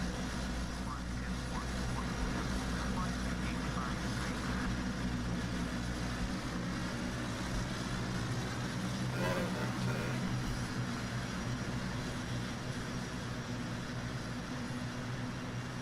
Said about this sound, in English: Airbus coming in.